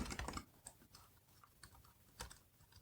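Someone types on a small keyboard linked to an iPhone: faint, scattered key clicks in short bursts and single taps, close but quiet, with no talking.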